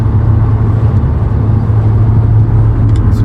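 A BMW M5 E60 cruises along the road with a loud, steady low rumble of engine and tyre noise from inside the cabin, unbroken throughout.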